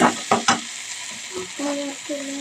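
Food being stirred and mixed in a pan with a little added water, a few sharp scraping strokes at the start, then a faint simmering bubble with soft tonal hiss toward the end.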